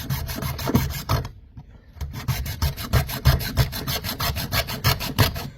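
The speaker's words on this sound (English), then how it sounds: "This next step includes using a little hacksaw and cutting" A small hacksaw cuts through plastic pipe, its rapid, regular rasping strokes close up, with a brief pause partway before sawing resumes at an even rhythm.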